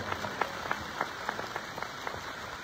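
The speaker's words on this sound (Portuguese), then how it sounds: "Uma salva de palmas." Applause from an audience at a church service and ceremony in Catete, Angola, welcoming the Minister of Social Action and the Promotion of Women; scattered, fairly faint clapping with uneven individual claps spread across a couple of seconds.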